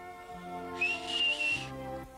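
A child whistles a single sustained, slightly wavering note that rises in the middle and then fades out, clear and close over a soft musical background.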